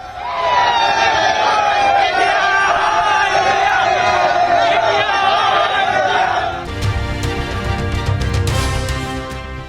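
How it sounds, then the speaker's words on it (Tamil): Indian cricket fans waving national flags outside the stadium in Cuttack, Odisha, roar and cheer as a dense, loud crowd, with shouting voices throughout and a brief dip before the noise swells again. "ஒடிசாவின் கட்டாக் மைதானத்துக்கு வெளியே தேசிய கொடிகளுடன் ஆரவாரம்."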